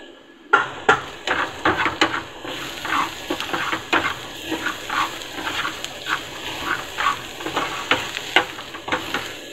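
Red chili powder, turmeric, coriander powder and salt fry in a pan for masala bhindi, with a soft sizzle under repeated scraping stirs and clinks of a spoon against the pan, close by and without talk.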